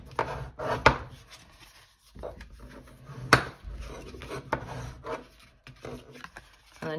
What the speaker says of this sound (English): we need to make sure that we burnish each of our folds